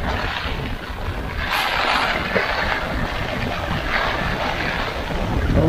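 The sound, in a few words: strong wind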